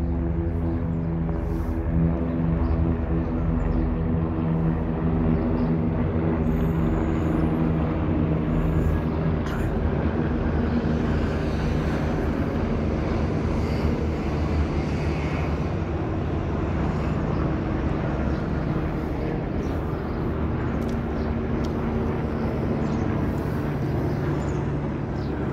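Several helicopters flying low over a Tour de France stage, a steady loud rotor and engine drone with a low throbbing hum that holds throughout, with no talk over it.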